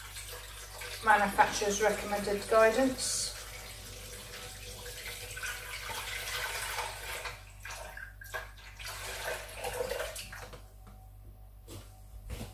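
Water runs steadily into a pressure canner already loaded with jars of beef stew, a continuous splashing pour that tapers off, with a person speaking briefly over it.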